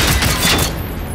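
Rapid burst of booming blasts and gunfire erupts in a chaotic Generation Zero shootout, loud and close, dying away within about a second.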